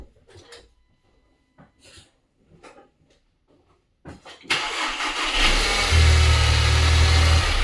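A 2015–2020 Audi A3 engine cranks and catches after a few quiet seconds of faint handling noise, then settles into a loud, steady run with a strong low rumble and a slight rev, close to the front end with the radiator just installed.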